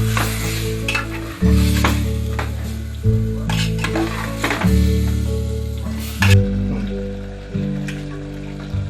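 Chicken coated in garlic paste is stirred and sautéed in a pressure cooker on a large gas burner, a steady sizzle broken by repeated scraping stirs of the spoon against the pot.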